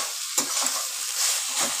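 A potato and banana-stem curry is stirred in a pan, with a soft, continuous sizzle of frying and a few scraping strokes of the spoon, close by and without talk.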